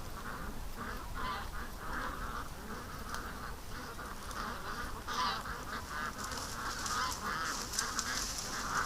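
Ducks on a lake call in repeated quacks and excited chatter while one swims nearby, a fairly faint, steady flurry of calls over soft outdoor ambience.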